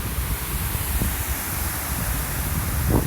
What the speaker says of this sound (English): And there's the wind.